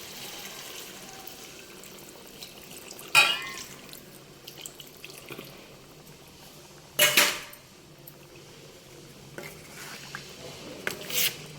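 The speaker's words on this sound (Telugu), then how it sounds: "ఇప్పుడు ఇందులో కొంచెం వాటర్ పోసుకుందాం." Water splashes into a pan of fried chicken in a home kitchen, a few short hissing bursts with quiet clinks and pauses between them, close and without voices.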